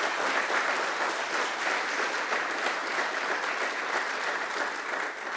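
A steady round of applause from the audience at a global supply chain summit, continuous and even, heard from a slight distance with no speech over it.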